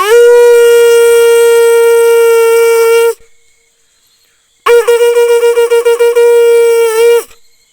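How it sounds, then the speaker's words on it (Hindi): A loud, sustained conch shell blast during a Hindu puja at home, a pause of near silence, then a second long blast that wavers and pulses before cutting off. "तो मैं अब बजा देता हूँ शंख"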